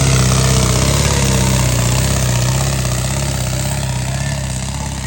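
A John Deere tractor engine runs steadily at a village tractor tournament, a loud, close, continuous diesel drone that eases slightly in level toward the end.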